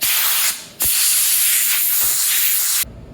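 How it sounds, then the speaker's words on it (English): Compressed air blasts out of a nozzle to clean Yamaha FZ-09 motorcycle steering head bearings, a loud close hiss in two bursts separated by a brief pause before stopping abruptly. "So usually now I just take some compressed air"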